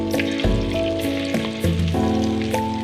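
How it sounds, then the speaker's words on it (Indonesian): Slices of tempe menjes, an Indonesian fermented soybean cake, fry in hot oil with a loud, continuous crackling sizzle and occasional stirring clatter, close up and without talk. "aku goreng tempe menjes"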